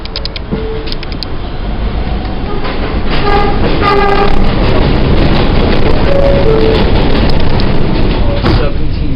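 A Manhattan-bound W local subway train running on the New York line, a loud steady rumble and rattle of the car with brief whistling squeals and tones, heard from onboard.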